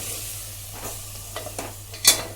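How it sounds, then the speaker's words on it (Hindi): Spices being stirred through drumsticks, potatoes and tomatoes in a pan for a Sindhi-style drumstick curry: soft intermittent scraping strokes over a faint sizzle, ending with one sharper clink of the spoon against the pan. "मसाले के साथ फली और आलू टमाटर सबको मिक्स कर लेंगे अच्छी तरह से"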